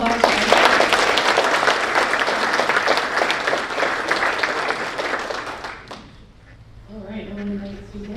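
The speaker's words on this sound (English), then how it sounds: "Can we get a round of applause for Eddie?" An audience at a general membership meeting applauds a speaker named Eddie, dense sustained clapping for about six seconds that then fades out, followed by a voice speaking near a microphone.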